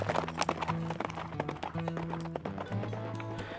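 Horse hooves clip-clop in a steady trotting rhythm, close and clear, with a faint tonal backdrop beneath the regular hoof strikes.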